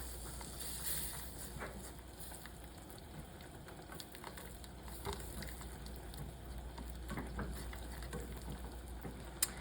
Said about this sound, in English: I'm going to stir all that around and let it kind of cook